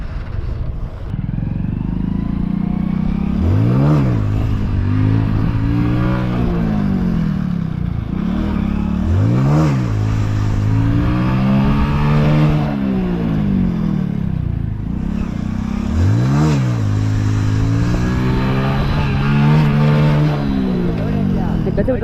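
A vehicle engine revs up again and again while the clutch is held on a slope, each rise and fall repeating about every three seconds over a steady idle, loud and close.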